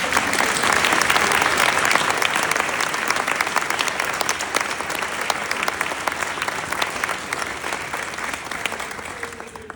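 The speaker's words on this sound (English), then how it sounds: "In fact, can we give them a round of applause?" A town hall audience in Seattle applauds a congresswoman's staff, dense clapping from many people filling the room, loudest at the start and slowly thinning toward the end.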